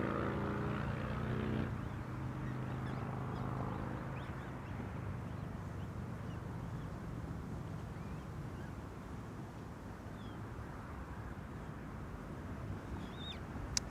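An airplane at Amsterdam Schiphol Airport rumbles loudly at first, then settles into a steady, broad roar that fades slightly in the middle and lasts throughout, with no talking.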